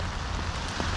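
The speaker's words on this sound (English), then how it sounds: "It's also raining a little bit" Light rain falls steadily at a campsite in Yellowstone in freezing temperatures, a constant broadband hiss under gusty wind with no other sounds standing out.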